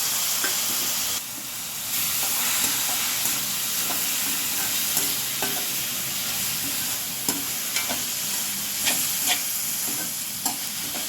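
Tomatoes sizzle steadily in a hot pan for masala Maggi, with the spatula clicking and scraping in regular strokes as they are stirred.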